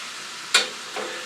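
Two sticks of butter dropped into a hot pan for chicken Alfredo burst into a loud sizzle, which eases off, then a second softer sizzle rises under a steady background hiss.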